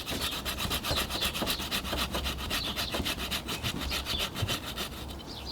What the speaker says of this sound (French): je vais reprendre la petite scie que j'avais tout à l'heure